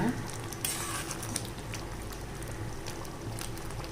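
Green tomato kootu with lentils bubbles in a pot, a steady close hiss and simmer with soft scraping from stirring, and a brief brighter clatter near the start.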